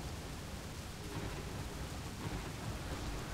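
Heavy storm in the city-building game Cliff Empire, a dense roar of rain with low rumbling thunder rolling beneath, steady and loud for a few seconds with no talk.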